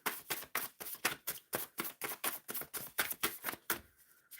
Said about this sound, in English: Shuffling for Aunt Rose.